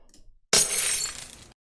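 A sharp glass-shattering sound effect is triggered by clicking a red subscribe button. One loud crash of breaking glass, followed by a tinkling spray of shards lasting about a second, after near silence.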